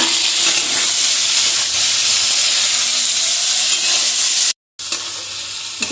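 Two medium tomatoes fry in a pan for an Indian egg curry, giving a loud, steady sizzle with stirring. A brief cut to silence interrupts it near the end.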